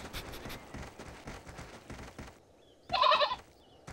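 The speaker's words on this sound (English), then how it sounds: "It's a mother goat with her children!" A mother goat gives a single loud, strained bleat near the end, rising clearly above a bed of rustling, thumping movement noise.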